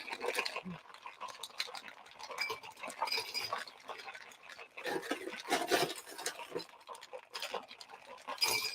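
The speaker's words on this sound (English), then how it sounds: "Then you want to shake this vigorously for about 15 seconds." A peach schnapps cocktail is shaken hard with ice in a cocktail shaker, making a steady run of rattling, clinking bursts that rise and fall for several seconds, close to the microphone.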